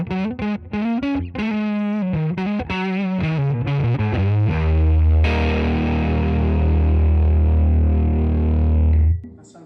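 Gibson Centennial electric guitar with three mini humbuckers, played on the neck pickup through distortion: a quick run of single notes, then a thick sustained chord ringing out loud before cutting off.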